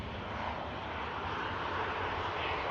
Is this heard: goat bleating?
no